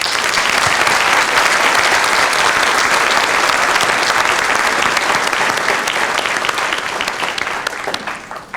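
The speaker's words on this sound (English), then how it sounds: "Please honour them all with your applause" Sustained applause from a graduation ceremony audience honouring new graduates, dense and loud for several seconds, tapering off slightly near the end with no talk over it.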